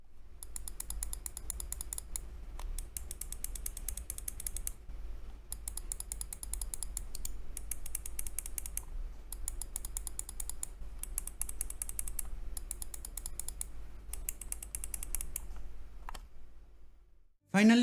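Side buttons on a Logitech G305 gaming mouse clicked in quick rapid bursts of crisp, light ticks, repeated in groups with short pauses between, close up and fairly quiet, no talking.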